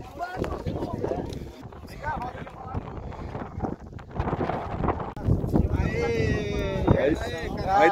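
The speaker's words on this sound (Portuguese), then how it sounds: "Oi, deu vento pra danar aí." Strong outdoor wind buffets the microphone in rough rumbling gusts throughout, over a rural scene where a person talks and animal calls rise near the end.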